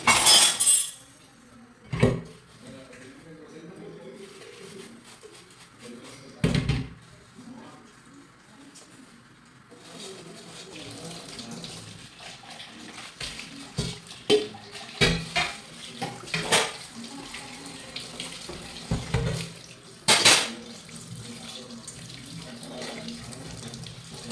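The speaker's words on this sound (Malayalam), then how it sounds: "അപ്പോൾ ഈ പാത്രങ്ങൾ എടുത്ത് കഴുകിയെടുക്കുന്നുണ്ട്" Dishes and utensils are washed under a running kitchen tap, with steady water flow, splashing and occasional glass and metal clinks, some close and loud, with no talk.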